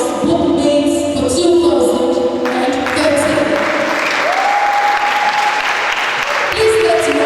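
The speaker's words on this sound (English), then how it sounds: "Please let's rise. Let's keep clapping." Sustained applause from a ceremony audience fills the room, steady and loud throughout, with a host speaking over it and some music playing underneath.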